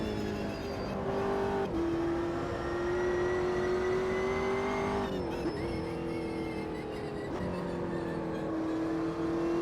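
McLaren 720S GT3 race car engine in AMS2 at the Nurburgring GP, a steady high-revving drone with sharp gear-shift dips, loud and close.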